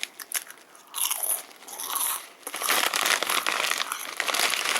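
A crunchy beef-flavored Japanese snack is bitten and chewed close to the microphone, giving sharp crisp crunches and crackly crumbling bursts in quick irregular succession, with no talking.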